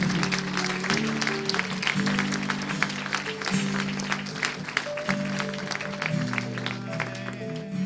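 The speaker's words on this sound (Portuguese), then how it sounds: "Aplauda o Senhor por isso." A church congregation claps at a worship service, a rhythmic wash of applause over a sustained low organ-like musical tone and pulsing chords.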